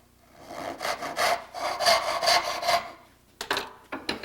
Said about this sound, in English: Start on a backstroke, cut down on the marking gauge line.